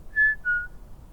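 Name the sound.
person whistling outdoors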